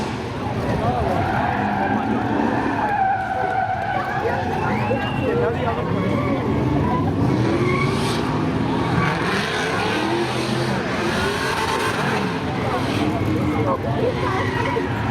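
A drag race car does a burnout at Seekonk Speedway's spectator drags, tires squealing and skidding steadily for about fifteen seconds, loud and close, with engine roar beneath and a commentator talking over it.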